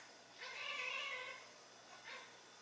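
A house cat meows indoors, one drawn-out meow followed by a shorter second one, fairly close and clear against a quiet room.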